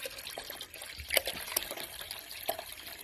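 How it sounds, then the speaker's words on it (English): White vinegar is poured into hot water, producing a faint liquid splash and trickle with a few drips over low background noise. "We're going to take this white vinegar here, and we're going to pour it in to the hot water."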